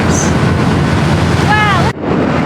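A ferry underway along the Outer Banks of North Carolina, with loud, steady wind buffeting the microphone and broadband rushing water noise that cuts off abruptly near the end, plus a brief whistling tone.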